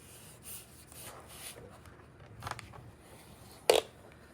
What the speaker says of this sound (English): burnish it with my tool here